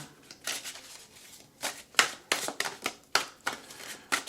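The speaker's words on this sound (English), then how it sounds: "So we're going to start with the Wizard's Tarot. We are going to shuffle." A deck of tarot cards is shuffled by hand in a series of crisp, riffling bursts and soft slaps, close and moderately quiet, with no talking.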